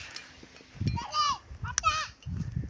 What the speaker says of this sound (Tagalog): Nilabas ko yung mga alaga kong kambing guys.